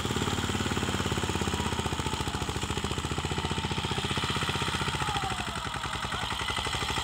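A Swaraj mini tractor engine labours steadily while ploughing a field, giving a loud, close, rapid knocking diesel chug that runs throughout with no speech.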